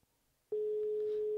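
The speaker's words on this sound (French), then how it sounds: "Ça sonne." A steady single-tone signal on a phone line starts abruptly partway through and holds loud and unbroken to the end, heard while a call is being placed to a remote guest.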